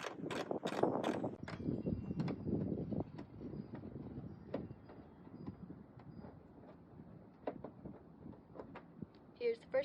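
Hand ratchet removing bolts from the wheel well of a Toyota Tacoma, a series of close clicking ratchet strokes and metallic clinks, fairly quiet, with some talk in places.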